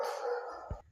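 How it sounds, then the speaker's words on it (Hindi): A dog barks once, moderately close, in a short sharp burst over a faint background. "कुत्ते भौंक रहे हैं"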